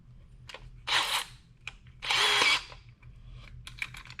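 Two loud bursts of a hammer drill boring, the second longer, separated by quieter gaps with faint clicks and handling noise.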